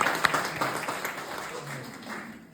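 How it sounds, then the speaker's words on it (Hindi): Audience clapping for a volunteer at an illusionist and mentalist stage show, scattered claps that gradually thin out and fade, with faint background voices. "प्राची के लिए तालियां हो जाए"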